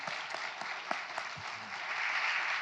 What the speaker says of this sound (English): Please, a round of applause for Paul Thomas Anderson before we wrap it up.